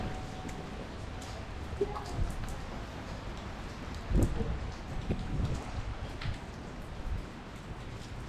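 Rain falls steadily on an outdoor walk in 's-Hertogenbosch, Netherlands, a soft continuous patter with wind buffeting the microphone and a few louder bumps, moderately faint throughout.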